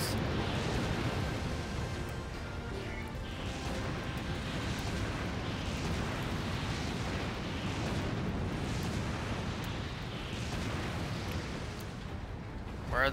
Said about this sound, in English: Oh, they're throwing bombs.